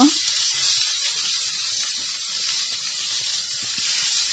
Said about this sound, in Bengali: মশলা মেখে নেওয়া মাছ এখন আমি তেলে দিয়ে দিব সবগুলো মাছ আমি এখন উল্টিয়ে পাল্টিয়ে ভেজে নিব